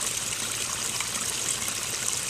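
Water trickles and splashes steadily in a backyard garden waterfall, a continuous close hiss of flowing water with no talk.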